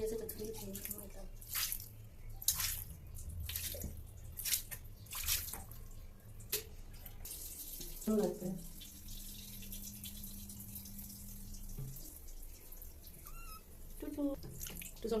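Warm water runs and drips while a cat is being bathed, an irregular patter of splashes and drops with a faint voice in the background.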